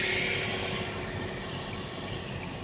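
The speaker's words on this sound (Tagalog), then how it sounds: "Lakas ng tubig baha." A steady, loud roar of rushing flood water at Philippine General Hospital fills the scene, dense and unbroken throughout with no pauses.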